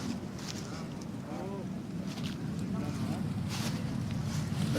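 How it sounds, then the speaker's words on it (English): Wind gusting outdoors at a Remembrance Day gathering, with flags blowing: steady broadband rushing and buffeting against the microphone, fairly faint, while people talk quietly in the background. "The flags are blowing in the wind."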